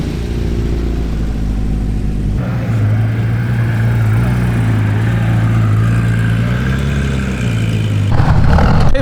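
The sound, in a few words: Porsche 924 classic car engine at cars and coffee meet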